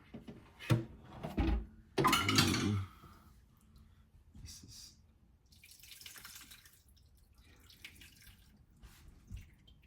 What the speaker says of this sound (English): Do y'all hear it dripping?